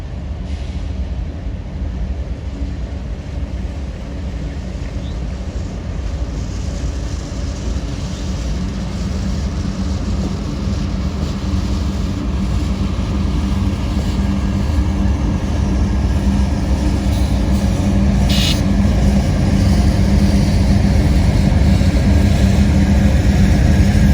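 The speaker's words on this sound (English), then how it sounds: "CSX train X21104, an extra Q211, is moving northbound on the SG Main, passing a yard job at Howell Yard in Atlanta" CSX freight train X21104, running as an extra Q211, rolls northbound on the SG Main past a yard job at Howell Yard in Atlanta, a loud continuous rumble and wheel roar that builds steadily, with a brief squeal near the end.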